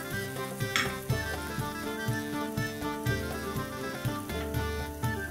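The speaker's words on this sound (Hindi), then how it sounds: "अब हमारी अनियन गोल्डन ब्राउन हो गई है, अब हम इसमें टोमेटो प्यूरी डालेंगे।" Golden brown onions sizzling in a pan as tomato puree goes in for a soya chaap malai masala curry, a continuous crackling fry with rhythmic stirring scrapes and a faint steady tone beneath.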